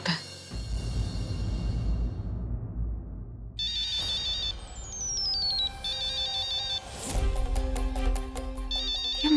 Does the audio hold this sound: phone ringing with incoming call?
yes